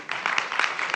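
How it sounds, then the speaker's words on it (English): An audience claps at a university entrepreneurs' pitch event, a short burst of dense applause heard fairly close, without speech. "So a round of applause again for Go."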